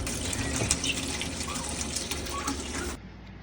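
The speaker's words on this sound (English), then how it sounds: "while I'm trying to fill up the water" Water runs steadily from a tap into a chicken coop waterer for about three seconds, close and continuous, then stops abruptly, leaving quiet background.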